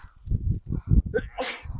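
A single sharp sneeze outdoors beside a woodpile, breaking loud and bright near the end after a stretch of low rustling and handling noise.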